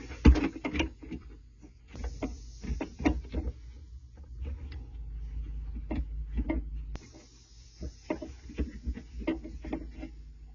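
Plastic P-trap fitting for an RV shower threaded into place by hand, with close irregular clicks, scrapes and ticks of plastic on plastic and a faint steady hum underneath.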